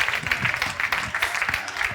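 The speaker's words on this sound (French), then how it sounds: "On acclame le Seigneur." A church congregation applauds during a Sunday prayer service, with steady, dense clapping throughout and voices mixed in underneath.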